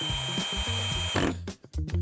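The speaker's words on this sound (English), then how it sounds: "take the longer screws and now secure the top rail down through that middle balustrade again" A power drill drives longer screws down through the top rail into the middle balustrade of a Trex Signature railing, a close whirring burst that stops briefly before a short second run.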